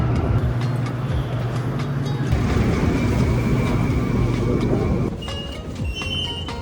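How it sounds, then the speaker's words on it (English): Loud, steady rumble and whine from inside a moving Shanghai metro train, a continuous roar that eases to a lower, quieter drone near the end. "We just got off the metro."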